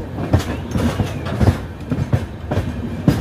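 The Janshatabdi Express (12074) runs from Bhubaneswar to Howrah, heard from inside the coach: a steady rumble with a rhythmic clickety-clack of wheels over rail joints, recurring every half second or so.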